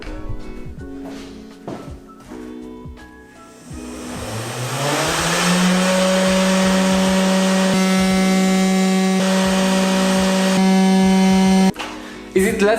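A 500W CNC spindle fitted with a 3D-printed cooling fan, heard from about a meter away: a few knocks first, then the motor spins up into a loud, steady high whine with tonal hum before cutting off.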